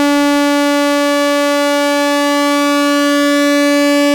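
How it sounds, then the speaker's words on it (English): An Arturia MicroBrute synthesizer holding a sawtooth oscillator with its UltraSaw effect, a steady loud buzzing tone with a slowly shimmering, chorused, detuned quality, sustained alone without talk. "So with the Sawtooth, we have UltraSaw,"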